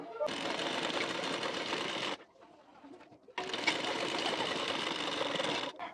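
A sewing machine stitches a hook strip onto a blouse in two long, loud, close runs of rapid needle chatter, separated by a short quiet pause, with no talking.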